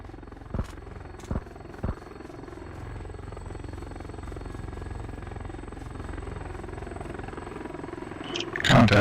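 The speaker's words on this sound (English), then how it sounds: "Chopper inbound from the north" Helicopter in a multiplayer shooter video game approaching, a steady rotor drone running throughout with a few sharp game shots early and rising louder toward the end.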